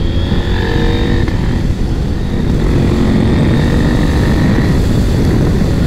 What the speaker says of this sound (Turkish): Evet, heyecanı yüksek bir motosiklet bu.